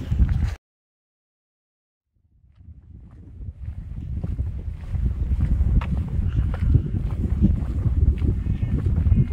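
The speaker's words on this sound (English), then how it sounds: "I don't know if you can hear me over the wind." Strong wind blowing near a beach, with a brief gust at the start, a moment of quiet, then a steady, loud rumbling roar buffeting the microphone that builds and holds to the end.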